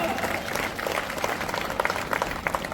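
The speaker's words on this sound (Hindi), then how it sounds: "तालियां बजाओ, ऐसी ताली बजाओ दोनों के लिए कि कोटा में सुनाई दे उनको" Audience applause at a Kendriya Vidyalaya inauguration ceremony in Chanderi, steady clapping from a crowd heard at moderate distance, fairly soft with scattered sharper claps.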